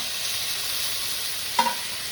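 Chopped tomato tipped into golden-brown frying onions for baffat chicken, an even close sizzle that swells with a brief clatter and burst of hissing near the end, no talk.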